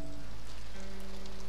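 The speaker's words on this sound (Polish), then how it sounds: "O, deszczyk." Rain in a Call of Juarez Gunslinger cutscene, a steady wash of falling rain with a low synthetic drone and hum underneath, constant and even for the whole stretch.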